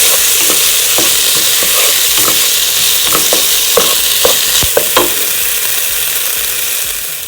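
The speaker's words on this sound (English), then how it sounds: "you just want to saute that into your rice" Vegetables and rice sauté with garlic in a hot pan for a vegan Mexican rice soup, giving a steady close sizzle broken by scraping, clicking stirs, with no talking.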